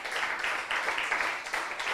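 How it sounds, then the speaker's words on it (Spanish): A church congregation gives a round of applause, a dense, steady wash of many hands clapping together with no voices above it. "¿Cuánto le dan un aplauso al Señor?"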